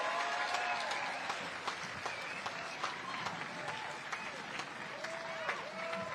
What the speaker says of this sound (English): let's give it up a big round of applause for the class of